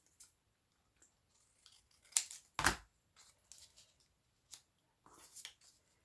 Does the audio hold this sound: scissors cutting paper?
yes